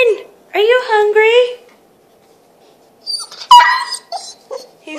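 Hungry puppies whimper and yip ahead of feeding, a close high whining burst followed by a second cluster of short yips and whines after a quiet pause, with people talking nearby.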